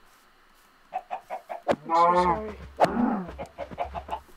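Minecraft chicken clucks come in quick repeated bursts with a couple of louder squawks, close and clear, while a person speaks briefly over the game sounds.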